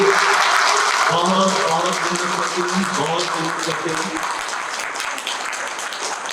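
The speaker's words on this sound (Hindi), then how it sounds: "इनके लिए तालियां बजा दीजिए।" An audience claps steadily for a woman at a public gathering, strongest at first and slowly thinning, while someone speaks over the clapping.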